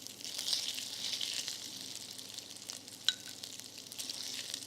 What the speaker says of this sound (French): Je rajoute mon coulis de tomate.